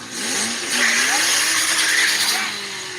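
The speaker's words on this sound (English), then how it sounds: "I got turbo, bitch. You hear the turbo?" A turbocharged car engine revs up close with a rising turbo whine over the roar, loud and continuous for a few seconds.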